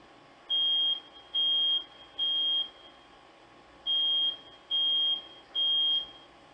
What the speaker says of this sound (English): The smoke alarm activates at 24 seconds.